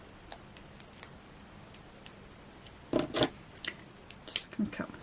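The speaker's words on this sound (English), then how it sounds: "if I grab my small scissors" Small scissors snipping super-sticky red tape at a craft table, a few short crisp cuts and rustles clustered toward the end, close and fairly quiet.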